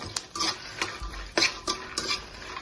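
Dry red chillies fry in a pan as a spoon stirs them, with quick repeated scraping and clinking strokes over a light sizzle, close by and moderately loud.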